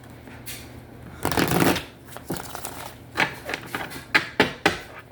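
Cards being shuffled up close: a long riffle burst followed by a series of shorter, crisp riffles and taps at irregular intervals.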